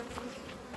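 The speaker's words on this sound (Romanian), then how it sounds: "albinele zboară bine, s-a înnorat." Honeybees buzz around a hive fitted with a homemade pollen collector on an overcast day, making a steady, dense drone of many wings with no talking.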